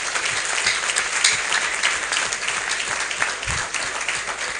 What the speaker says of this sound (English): Can you please give them a round of applause once again?